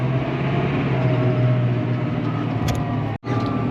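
Massey Ferguson 6718S tractor with a Dyna 6 transmission drives in automatic pedal mode while piping slurry, its steady engine drone and rumble continuous and fairly loud, with a brief dropout near the end.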